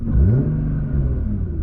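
A 700-horsepower Nissan GT-R gives a quick, short blip of the throttle, a close, loud engine rev that rises and then settles into a deep steady idle rumble.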